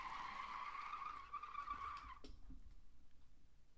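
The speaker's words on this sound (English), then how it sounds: "It was just a car screech." Car tires screech in a sustained, loud squeal lasting about two seconds, then cut off, leaving a low rumble of traffic.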